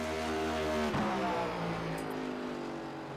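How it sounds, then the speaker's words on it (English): A NASCAR NextGen race car passes on track, its loud engine note sweeping past from the stands with a sharp pitch drop, then fading steadily into the distance. "See what this thing sounds like and looks like on track."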